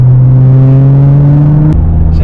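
Nissan GT-R R35 tuned to 650bhp accelerating under four-wheel drive on a greasy road, a loud, close engine drone rising steadily in pitch, then a gear change dropping the tone.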